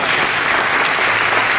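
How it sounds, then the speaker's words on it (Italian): Audience at an award ceremony in the Maschio Angioino, Naples, claps continuously; a thick, even wash of applause from a large crowd, loud and close throughout. "Applausi."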